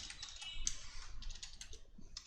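Fast, light typing of code on a computer keyboard, a quiet, close patter of overlapping key clicks with no pauses.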